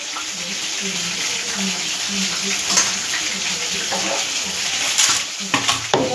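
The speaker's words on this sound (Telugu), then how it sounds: "ఇలా డీప్ ఫ్రైగా చేయాలి." Fish deep-fries in hot oil for a curry, a steady close hiss of bubbling with occasional louder crackles, while a person talks intermittently nearby.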